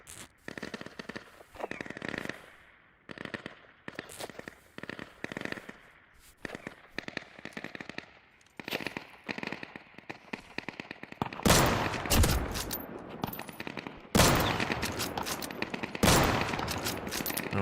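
Rapid bursts of automatic gunfire in the survival shooter Deadside, with loud, sharp volleys of varying length separated by short pauses and the heaviest, densest firing coming late.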